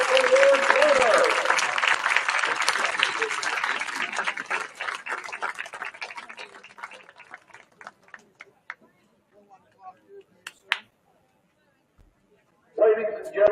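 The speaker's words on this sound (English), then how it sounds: "Now let's give them all a big round of applause for the Plesakov Award winners." An audience at a dedication ceremony applauds award winners. A full round of clapping is loud at first, fades over several seconds to scattered last claps and then silence, and a voice starts speaking right at the end.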